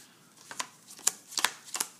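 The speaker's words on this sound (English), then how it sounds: "He took the cards, shuffled, cut, and dealt them to the table in a row." A deck of playing cards is shuffled near a card table, several soft riffling bursts and flicks in quick succession, quiet and close with nothing else around.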